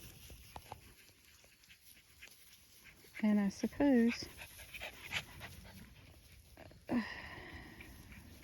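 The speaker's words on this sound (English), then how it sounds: "So there's the dogs." Pregnant dogs pant close by, broken by a few short high whimpers or whines, with brief human talk over the sounds.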